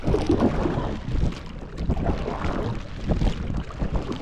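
Strong wind buffets the microphone in heavy, rumbling gusts, with a broad rushing noise throughout.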